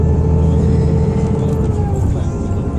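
Steady road traffic on a West Bank road, cars rolling past with a continuous low rumble and engine drone, fairly close and loud, no break in the flow.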